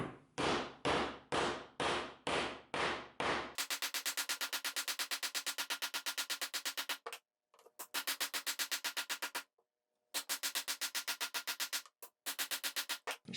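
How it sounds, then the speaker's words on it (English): Half-inch metal conduit struck with a hammer, starting with a few slow heavy blows and then fast steady runs of sharp metallic taps broken by short pauses, close by. "this is 1/2-inch conduit, and we are going to do a little banging on it"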